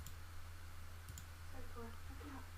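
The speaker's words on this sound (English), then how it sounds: "So if we go click once, click twice, click again and again" A couple of quick computer mouse clicks during Fusion 360 3D modelling work, close and sharp over a steady low hum, followed by a person talking.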